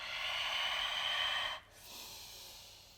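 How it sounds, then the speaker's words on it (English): Someone doing yoga breathes out in a long, loud, airy exhale. After a brief pause comes a softer, slower inhale, both close to the microphone. "Breathing in and out."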